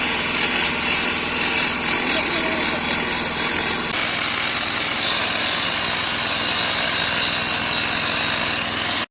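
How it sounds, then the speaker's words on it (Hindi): A rail profile grinder works on a thermit-welded rail joint, its loud, steady, high-pitched whine and motor roar running nonstop at close range, with a shift in tone partway through. "रेल प्रोफाइल ग्राइंडर की मदद से वेल्डिंग जोड़ को स्मूथ ग्राइंडिंग किया जाता है।"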